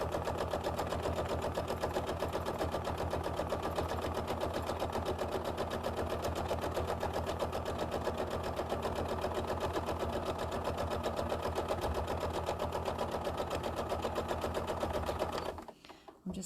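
Sewing machine stitching through sized batik fabric, running steadily at close range with a fast, even hum and a very light rhythmic tapping throughout, stopping right at the end.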